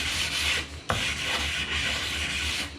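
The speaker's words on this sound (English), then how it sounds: "you can take some fine sandpaper. This is almost too fine. It's like 400 grit" Fine 400 grit sandpaper rubbing along the edge of freshly applied edge banding, a steady close dry rasp of back-and-forth strokes with one brief louder knock partway through.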